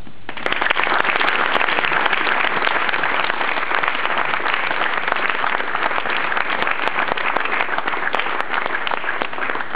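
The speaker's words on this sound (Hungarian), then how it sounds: "Gondoltam, hogy távollétében is szóljon neki a taps" Audience applause at a Hungarian Fair Play award ceremony, a dense, even roar of many hands clapping that holds steady throughout, close and loud.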